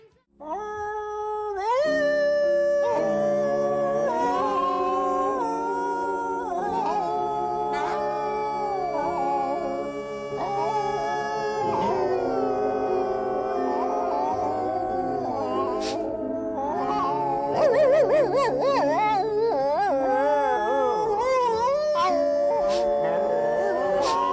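Dogs howl mournfully in long, wavering, drawn-out tones, several voices overlapping almost like a tune, steady and loud throughout.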